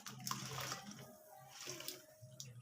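Hot water is poured from a pot into a cooking pot of taro leaves in a home kitchen, a faint splashing stream with small clinks and bumps of the vessel, quiet and close.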